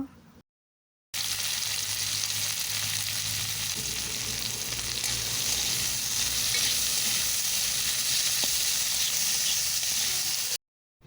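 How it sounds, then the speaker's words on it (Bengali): Bitter gourd fries in mustard oil in a wok, giving off a dense, steady sizzle and hiss for about ten seconds. Faint stirring sounds run underneath, and no one speaks. "এরপর উচ্ছে ভেজে নেব।"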